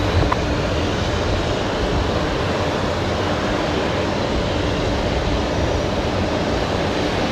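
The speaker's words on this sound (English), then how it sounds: "Qantas A330." A Qantas Airbus A330 airliner at Brisbane Airport gives off a steady, loud engine roar and broadband rush that holds at the same level from start to finish, with no voices.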